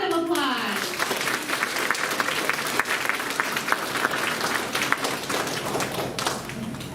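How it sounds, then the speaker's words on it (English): An audience at a third grade awards ceremony claims a round of applause for the award winners, a dense burst of clapping that fills the room and carries on steadily, with a few louder taps and voices mixed in. "Give them a round of applause."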